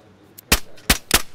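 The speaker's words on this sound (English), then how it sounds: "Oh shit, someone shooting." Three sharp gunshots in the game DayZ, one faint pop followed by three loud, crisp cracks spaced a few tenths of a second apart.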